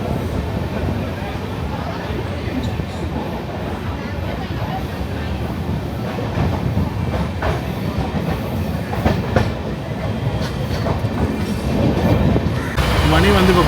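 The Ernakulam–Bangalore Intercity superfast express, running with LHB coaches, rumbles steadily on the rails with rhythmic clickety-clack heard from inside the coach, while a voice talks over it.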